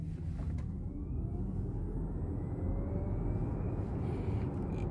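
A VW ID.4 electric car pulls away in sport mode, giving a steady low rumble and road noise with a faint rising whine, heard from inside the cabin with no talk.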